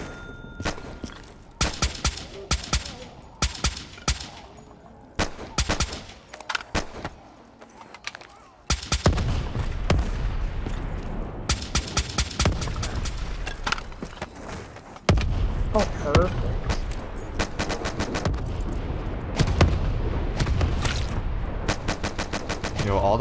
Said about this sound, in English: Those explosions are so satisfying.